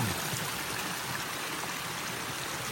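Clear mountain stream flowing straight down a slope beside a hiking trail: a steady, close, full-band rush of water with constant hiss and faint gurgling, no voices.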